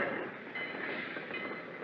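A train bound for Minneapolis in 1956 gives a steady, low rumble and a faint rolling clatter of wheels on the rails, quiet and continuous with no distinct beats, and no voices.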